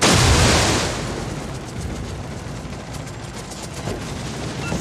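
Explosive gunfire in the Ark Royal naval combat game, a loud blast at the start settling into a dense, continuous rumble of distant shots and detonations.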